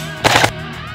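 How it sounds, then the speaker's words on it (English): An airsoft gun fires a single test shot, a loud short burst of roughly a quarter second standing out sharply over a quiet background, with no voices. "First, let's just fire it one shot to make sure it works."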